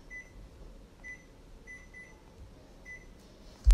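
A kitchen oven timer being set for a baking session, giving a series of short, faint electronic beeps spaced irregularly over quiet room hum, with a louder knock at the very end.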